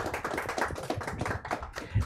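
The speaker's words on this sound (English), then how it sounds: "Let's give a big round of applause for Jane." Audience applause at a book talk and signing event for an author: a steady patter of many hands clapping, moderately distant and fairly soft, continuous through the short stretch with no voices.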